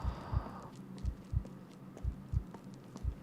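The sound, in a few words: heartbeat sound effect lingering in a video game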